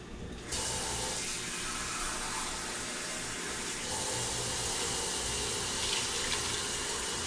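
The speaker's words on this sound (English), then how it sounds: "So I'm going to add some water." Tap water pours steadily into a cooking pot while rice and beans are prepared, a continuous close rushing splash starting after a brief pause and running evenly to the end.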